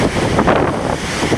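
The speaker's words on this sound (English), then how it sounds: "is Lady Lake Huron ever rolling? The waves are coming right up over the multi-use trail that runs along the lake here. It's very, very windy" Strong wind roars and waves crash and wash up over a lakeside trail on Lake Huron's shore near Port Elgin, with loud, continuous broadband rushing and gusty buffeting on the microphone.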